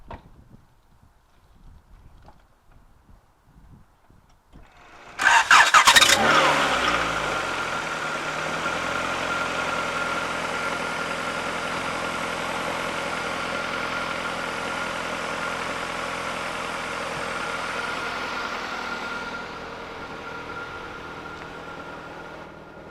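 A Honda engine fitted in a Mazda cranks and catches with a loud burst about five seconds in, then settles into a steady, fairly quiet idle that continues to the end with no talk.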